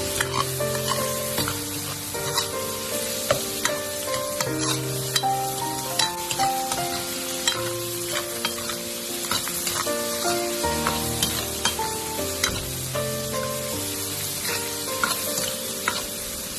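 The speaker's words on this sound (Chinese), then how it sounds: "在煸炒的过程中，我们要不停的翻炒，将鸡肉大概翻炒3分钟左右就差不多了" Chicken pieces stir-fried in a hot wok, kept constantly moving: a steady sizzle with repeated sharp scrapes and clacks of the spatula, under a prominent melodic music track.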